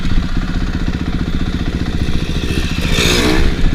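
A dirt bike engine chugging at low speed on a trail, a close, steady lumpy putter with a mechanical clatter, rising slightly toward the end.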